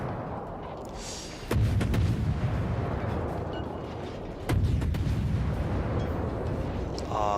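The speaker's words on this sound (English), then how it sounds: "Fire my guns." Naval guns of a Fletcher-class destroyer fire in World of Warships in two heavy booming salvos about three seconds apart, each followed by a sustained roar over steady battle ambience.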